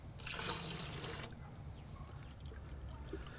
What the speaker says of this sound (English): Now into that, I want to pour in 1 full cup of white vinegar.